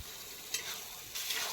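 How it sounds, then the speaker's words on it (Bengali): Bottle gourd and potato cooking in a poppy-seed curry in a home kitchen, a faint continuous sizzle with a couple of brief stirring scrapes, no talk. "এবার লাউ আর আলুতে পোস্ত হচ্ছে"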